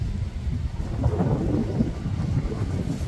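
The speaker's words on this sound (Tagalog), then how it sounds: "Malakas na yung ulan tapos umaaraw." Dense, steady rumbling roar of heavy rain falling while the sun shines, with low thunder-like rolling underneath, constant throughout and no voices.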